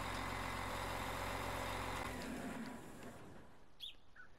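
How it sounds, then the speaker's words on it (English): A New Holland harvester engine in Farming Simulator 19 rumbles loud and steady as it starts up, then the drone drops back to a lower idle while birds chirp faintly in the background. "All I'm going to show you is the startup. Very nice sounding engine"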